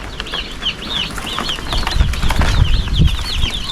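Chickens on a farm clucking and calling repeatedly with bursts of wing flapping, fairly close, with a rising busy flurry of movement partway through and no talk.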